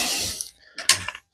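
A ratchet turns in two short bursts of rapid clicking, cracking loose cylinder head bolts on a Peugeot TU1JP engine, close and fairly loud, with a brief pause between bursts.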